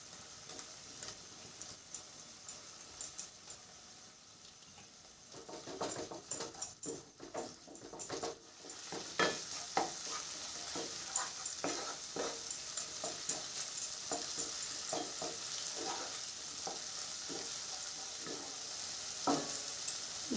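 Chhana is stirred into a spiced masala, giving a soft, quiet sizzle with irregular scraping and tapping strokes that grow busier partway through, with no voices.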